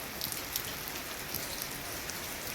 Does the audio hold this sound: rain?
yes